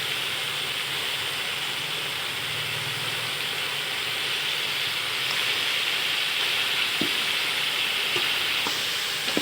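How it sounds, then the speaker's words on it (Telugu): Chicken frying in a pan, heard as a dense, steady hiss of sizzling oil that stays even throughout, with a few faint clicks toward the end. "చికెన్ కూడా ఇలా బాగా ఫ్రై చేసుకోవాలండి"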